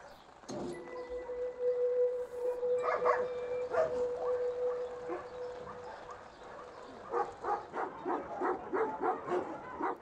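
Dogs bark and yip at a Romanian shelter housing about 130 dogs per row, a mix of sharp barks and whimpers at moderate distance, rising into a rapid run of repeated barking toward the end.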